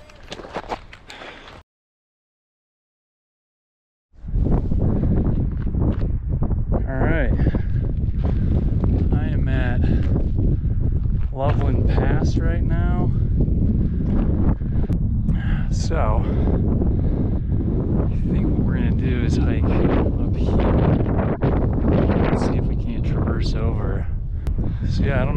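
Heavy wind buffets a microphone at Evans Pass in Colorado, a loud, continuous rumbling roar after a short dropout, with a voice only partly audible beneath it.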